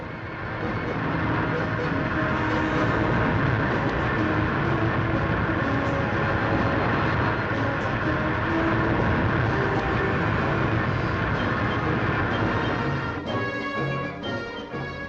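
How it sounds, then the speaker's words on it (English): Steady, dense rumble of heavy 1960s British merry-go-round coal trains rolling along, a continuous broad roar with faint clanking near the end. "merry-go-round coal trains moving continually between pitheads and power stations"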